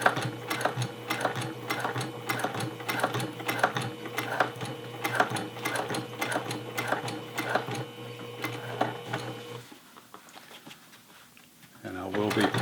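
A sewing machine topstitches a flat-felled back crotch seam on jeans with a long stitch length, giving a close, rhythmic mechanical chatter that runs for about nine seconds and then cuts off.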